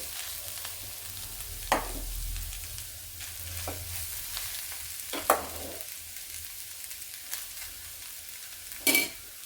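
Cooked rice fries in a pan with egg and carrot, a steady sizzle broken by a few spatula scrapes and clinks as it is stirred, close up with no talking.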